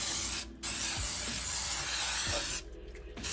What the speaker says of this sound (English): I am just going to spray it.